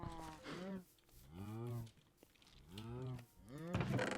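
Minecraft cows mooing, four drawn-out, wavering low moos in a row at close range, with short gaps between calls.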